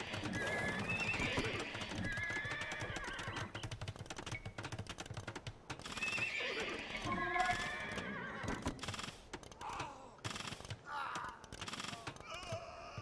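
Horses in the video game Age of Empires II neigh and whinny in short bursts amid battle clatter, hoofbeats and rapid mouse and keyboard clicks, with someone speaking over parts of it.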